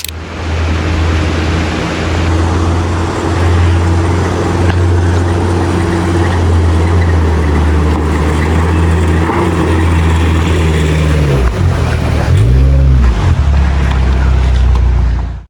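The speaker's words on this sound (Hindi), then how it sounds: "आप जीप लाएंगे तो आप देखेगा कितना ऊपर चढ़ाना पड़ता है जीप को" A jeep engine drones loud and steady as it climbs a steep mountain road in Pakistan's Neelum Valley, with deep rumbling low tones, then falls and rises again near the end as the revs shift.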